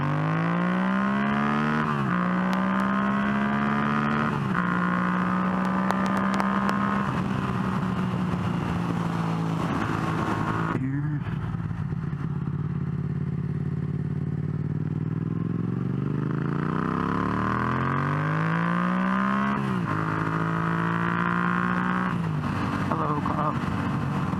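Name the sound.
Yamaha MT-07 motorcycle accelerating on freeway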